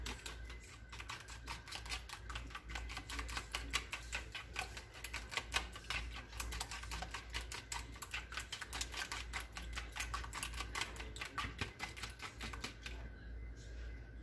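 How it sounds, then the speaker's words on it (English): Two eggs being whisked in a bowl for cake doughnut batter, a fast steady clicking of the whisk against the sides that keeps up throughout, close but quiet, over a low hum. "And 2 good eggs. Okay, going to whisk that."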